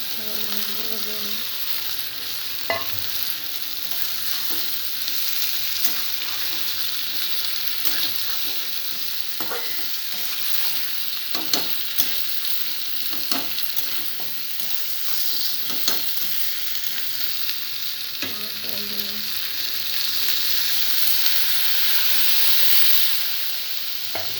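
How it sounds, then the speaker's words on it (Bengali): Onion, garlic and chili spice paste frying in a pan for a pangas fish dish, a steady loud sizzle with scattered spoon scrapes and stirring knocks throughout, close up and without talking. "লঙ্কা দিয়ে পেস্ট করে রেখেছি ভালো করে কষিয়ে নেবো"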